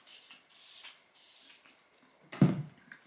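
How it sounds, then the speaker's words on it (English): A Benefit makeup setting spray mists in a few short hissing bursts, three soft sprays in quick succession, followed by a louder handling clunk as the bottle is set down. "I really like this setting spray from Benefit."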